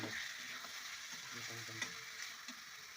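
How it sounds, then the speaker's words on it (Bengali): Chili chicken and potatoes are turned in a sizzling pan, with a soft steady frying hiss broken by a few scraping stirs and a light knock of the spoon. Quiet and close, with no speech. "আবারও নেড়ে চেড়ে"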